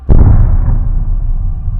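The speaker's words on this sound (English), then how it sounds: "The explosion." An explosion erupts suddenly as a loud, deep boom, then a rumbling low roar trails off over nearly two seconds.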